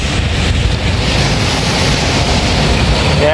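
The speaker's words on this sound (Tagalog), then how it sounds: "Lakas ng ulan, bagyo." Heavy rain with gusty storm wind during a typhoon, a dense, steady broadband roar with wind buffeting the microphone, loud and continuous throughout with no voices.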